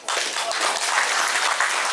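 An audience applauds at a cup tournament ceremony. Brisk, dense clapping starts abruptly and holds steady for about two seconds.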